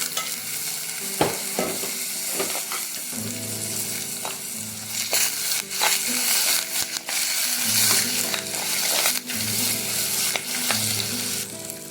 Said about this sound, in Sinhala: දැන් මේක රවුම් පාට වෙනකම් බැදීගෙන එනකොට මේකට කුරුඳු පොත්තුයි රම්පේ කරපිංච මම එකතු කරගන්නවා